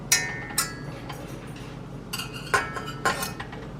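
A utensil stirs a cheese roux in a pan for homemade chicken enchiladas, giving several sharp metallic clinks and scrapes at irregular intervals over quiet kitchen background, with no talk.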